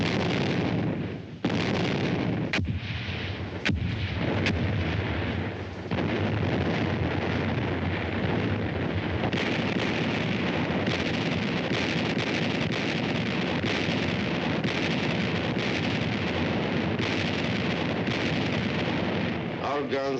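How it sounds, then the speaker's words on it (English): Heavy artillery shelling of Berlin rumbles as a dense, continuous barrage of booming blasts on an old, band-limited recording, with several sharp louder bursts standing out early on. "Guns have the city under heavy shelling."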